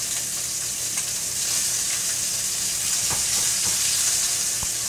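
Steak for steak au poivre searing in a hot pan in a small galley kitchen, a steady loud sizzle and crackle throughout with a few sharper pops, no talking.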